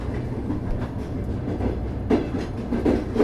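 A train rumbles along the rails with a low, continuous roar and periodic clacking as wheels pass over joints, fairly close and loud.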